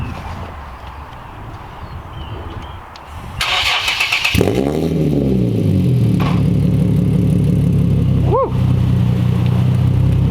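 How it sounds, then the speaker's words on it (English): An Infiniti with a straight-pipe exhaust fires up with a sharp burst, then settles into a loud, raspy idle with a rising rev sweep and a quick blip near the end, recorded close. One voice whoops briefly. "Revs with the car as it is right now with the straight pipe."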